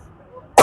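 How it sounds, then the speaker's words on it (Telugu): A single sharp cough bursts out close by at the very end, after a stretch of near silence, from a person who has a cold and a sinus problem. "నాకు దగ్గు జలుబు వచ్చేస్తుంది."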